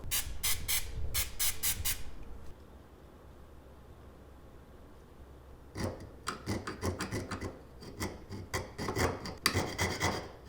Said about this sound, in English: spend the next however long with the jewelry saw cutting it out